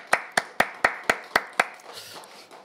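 Applause at a church healing meeting comes as seven sharp, evenly spaced claps in a quick steady rhythm, close and crisp, followed by fainter scattered clapping as it dies away.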